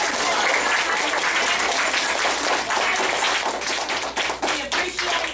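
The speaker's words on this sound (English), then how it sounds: "Let's give him a round of applause and thank you." Steady applause and clapping from a school audience at an elementary career day, a dense patter of many hands that stays loud throughout, thinning slightly toward the end.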